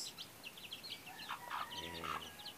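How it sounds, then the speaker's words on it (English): Soft hen clucks and faint high peeping of seven chicks close by, a low rhythmic clucking rising toward the end over quiet background while being fed rice. "That is the hen raising the 7 chicks."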